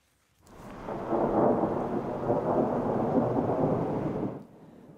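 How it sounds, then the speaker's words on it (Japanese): Heavy rain and rumbling thunder during a night storm in Hokkaido, a broad, loud roar that swells in within half a second and holds steady for about four seconds before dropping to a softer wash of rain. "激しい雨とともに落雷が発生し停電が相次ぎました"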